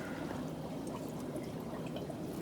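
Water poured onto soil in a plant pot, a soft continuous trickling and splashing pour, faint and steady, heard alone.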